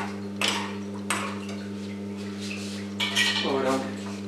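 A spoon stirs paneer mushroom gravy in a pan, giving a few sharp metallic clinks and scrapes over a constant low electrical hum, with a longer scraping burst toward the end.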